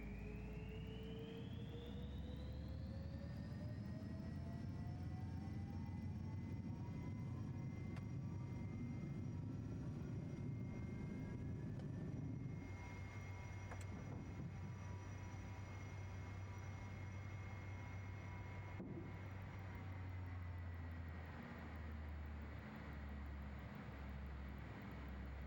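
Jet engines of a Learjet 35A in Microsoft Flight Simulator 2024 spool up with a rising whine and rumble. The sound settles into a steady roar with a deep low hum, continuous and fairly quiet, with no talk.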